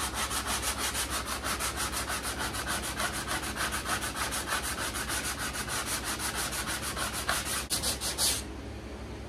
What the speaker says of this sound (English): there's absolutely nothing fast about sanding this stuff down